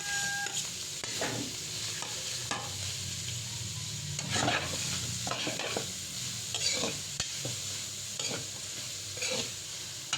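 Onion and chicken sizzling in a pot for sopas, a continuous frying hiss with repeated scraping bursts from stirring, close and fairly loud.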